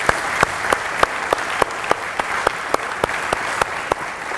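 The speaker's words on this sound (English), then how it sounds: "let's give everybody one more big round of applause and everybody in the room" An audience at a 2013 business appreciation awards ceremony gives a full round of applause, a dense, steady wash of clapping with a few sharp, regularly spaced claps standing out near the front.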